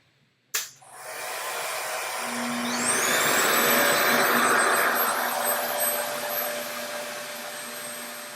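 A RevAir hair dryer runs at setting 4 after a sharp click at switch-on, a steady loud blowing whoosh with a faint whine that holds close and constant throughout.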